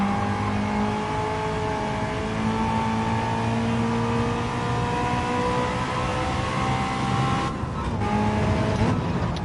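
A Gran Turismo 7 car engine holds a steady, buzzing high-rev drone as it sits against the rev limiter for the whole stretch, loud and continuous, with a slight stutter near the end.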